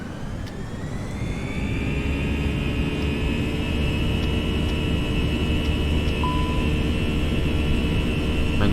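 A319 jet engines spool up to takeoff power in the Prepar3D flight simulator, heard as a loud, steady roar with a rising whine that settles into a continuous high tone and never lets up.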